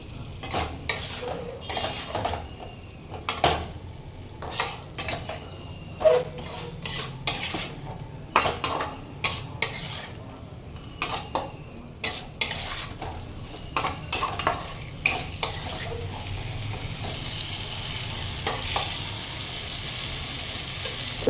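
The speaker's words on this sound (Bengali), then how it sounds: "এটাকে একটু এই মশলার সাথে আমি কষিয়ে নেব" Dhoka pieces sautéed with spices in a pan: repeated clattering spatula strokes scrape and knock against the metal in irregular bursts over a soft, constant sizzle, close and alone.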